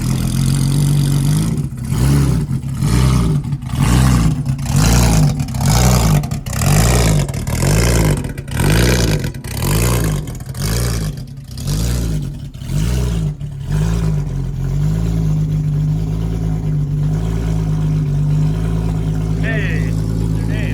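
A Porsche widebody race car with a 3.2 flat-six engine revving hard in a series of rhythmic blips and pulses, then settling into a loud, lumpy idle, with a voice briefly audible nearby.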